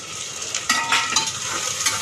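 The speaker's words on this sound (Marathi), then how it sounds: "चांगलं परतून घेऊया" Potatoes frying and being stirred in a pan for pulao, a steady hissing sizzle with several sharper scrapes of a spoon against the metal.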